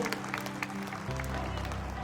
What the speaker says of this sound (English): I request all the parents to please give a big round of applause and encourage our young learners